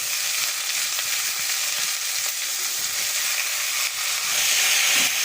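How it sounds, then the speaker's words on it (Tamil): Spinach and softened onions fry in a pan with a loud, steady sizzle up close, the hiss swelling slightly toward the end as the greens are stirred. "வெங்காயம் வதங்கிடுச்சு, வந்து கீரை போட்டுடலாம்."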